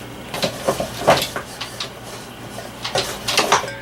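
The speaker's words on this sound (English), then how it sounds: "One cup of boiling water, and we're just going to mix" A spoon clinks and scrapes against a bowl in irregular strokes as a cup of boiling water is stirred, close by and fairly quiet.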